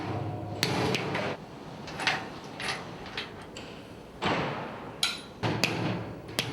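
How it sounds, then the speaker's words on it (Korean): A large hammer strikes a bolt to wedge it into a steel-frame structure on a high construction site, several sharp metallic blows spaced irregularly among clanks and site noise, close and fairly loud, with no talk. "볼트가 잘 들어가지 않을 때는 망치를 사용하는 수밖에 없다."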